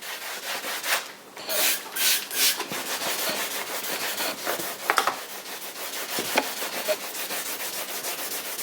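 Mild scrubbing of leather upholstery in a higher-end car with a brush and ONR cleaner, a close, steady rubbing swish in repeated strokes, occasionally louder, with no voices.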